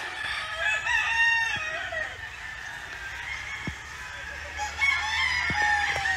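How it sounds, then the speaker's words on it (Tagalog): Roosters crow repeatedly in the distance in the early morning countryside of a Philippine province, over a busy background of chirping birds and other fowl, with a few sharp knocks in between. "Ang ingay ng manok."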